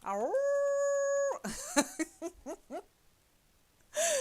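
A dog gives one sustained, rising howl lasting about a second, followed by a few short whimpering and breathy sounds, then a brief high yelp at the end.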